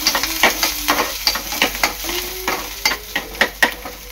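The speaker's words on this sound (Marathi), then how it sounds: "तेलामध्ये कांदा टाकणार आहे। कांदा चांगला लाल झालेला आहे।" Onion frying in hot oil in a home kitchen for mushroom masala, a steady sizzle broken by repeated sharp scraping stirs, close and fairly loud with no talking.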